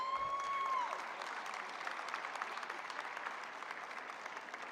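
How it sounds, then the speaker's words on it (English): A crowd at a government event on anti-gun-violence programs applauds peacekeepers, with steady, moderately distant clapping and a brief high tone at the start, continuing throughout. "Let's give one more round of applause to all of our peacekeepers, please."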